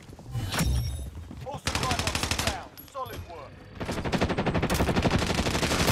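Gunfire from Call of Duty Warzone, Rebirth Resurgence quads mode: bursts of rapid automatic shots in fast rhythmic strings, fairly close and loud, with players talking over it.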